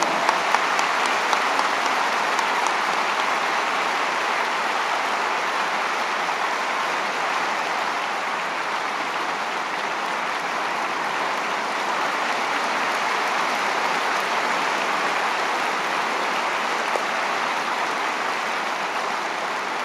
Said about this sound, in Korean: 모두 환영의 축하의 박수로 맞이해 주시기 바랍니다.